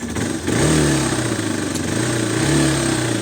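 Hero XPulse 200 enduro motorcycle engine running close by: a loud, steady rough drone with slight rises in revs and a clattery mechanical edge throughout.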